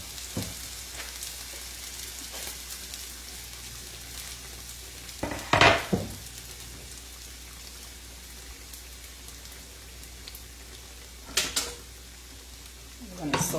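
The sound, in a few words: onions and garlic sautéing in a pan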